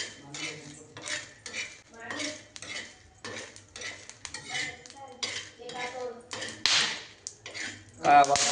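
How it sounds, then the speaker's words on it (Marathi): Green chilies roasting in a pan, with busy clattering of a spoon and metal utensils stirring and scraping in irregular bursts, close by, with a voice speaking intermittently over it. "टाकायत मिरच्या मिरच्या सुद्धा भाजून घ्यायचे"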